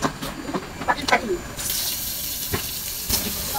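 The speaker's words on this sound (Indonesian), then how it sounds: "kali ini saya akan alirkan keran air ini selama 30 detik sampai 1 menit" Water pours from a tap in a steady hiss that starts strong partway through, with faint clinks and small noises before it, close by and alone.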